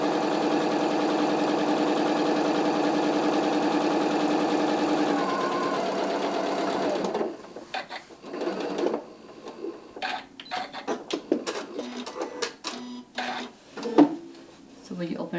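A sewing machine runs a steady, close motor drone while stitching a quilt seam for about seven seconds, then stops, followed by scattered clatter and handling noises of fabric and tools.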